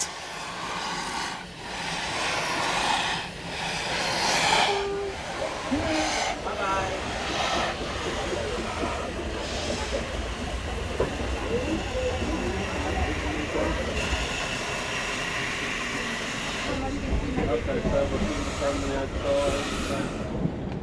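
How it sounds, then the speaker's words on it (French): A steam train on the Furka mountain railway pulling out of Realp station: rumbling wheels, hissing steam and clanking carriages carry on steadily, close by, while someone narrates over much of it. "le train s'extirpe de la gare de Réalpes, prêt à gravir le col en direction d'Oberwald"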